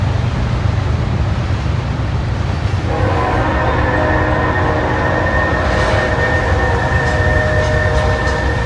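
A Norfolk Southern freight train runs along the railway line, a steady low rumble of wheels on rails joined partway through by a loud, sustained horn blast, heard from a moderate distance with no talking.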